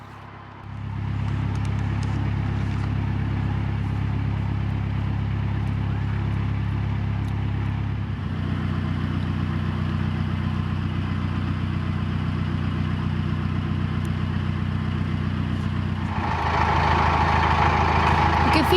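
Original Gardner diesel engine of a privately owned narrowboat running steadily at idle, a close, continuous low throbbing drone that shifts slightly in pitch partway through and picks up a brighter rattle near the end.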